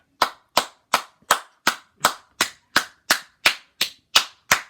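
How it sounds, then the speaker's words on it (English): Thirteen sharp hand claps in an even, steady rhythm, loud and close, with nothing else heard. "Let me clap for you."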